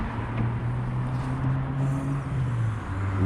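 A car engine hums low and steady at close range while cars are moved slowly at a riverside drop-in point, with the pitch dipping slightly near the end.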